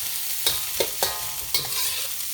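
Fried rice being stirred in a large wok with salt, pepper and garlic powder, a few sharp spatula scrapes and clanks over a steady sizzle, close and alone.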